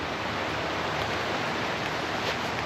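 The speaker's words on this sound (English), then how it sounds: "A lot of cascading falls and rushing water." Cascading falls and a rushing mountain stream in the Alabama and Georgia mountains after a night of rain, a steady, dense roar of water heard close and unbroken throughout.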